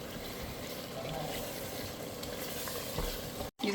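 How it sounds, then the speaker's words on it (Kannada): Ground masala paste for chicken biryani sizzles quietly in a hot pan while being stirred, a soft steady crackle with faint scraping throughout. "ಮುಂಚೆ ರುಬ್ಬಿದಂಥ ಮಸಾಲನ ಹಾಕ್ತಾ ಇದ್ದಾರೆ."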